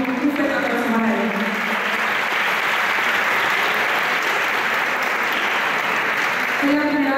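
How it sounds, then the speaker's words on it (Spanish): Audience applause fills a concert hall after a singer's set, a dense steady wash of clapping that holds for several seconds, with faint voices at the start and end. "Un fuerte aplauso para él."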